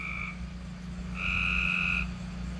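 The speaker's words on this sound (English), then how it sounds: "That's the tree frogs." Tree frogs croak during a tropical storm, giving two clear buzzing calls, a short one and then a longer, louder one, over steady low rain and wind noise, with no voices.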